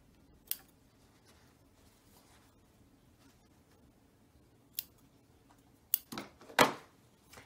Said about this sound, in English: Cut off all of my threads.